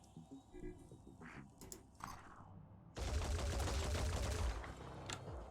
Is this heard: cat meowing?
no